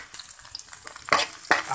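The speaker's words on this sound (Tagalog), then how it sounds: "Pero ngayon, lalagyan natin siya ng sibuyas." Onion and garlic sizzle in a hot pan, with two loud stirring bursts of frying over a steady crackle, close up and without talk.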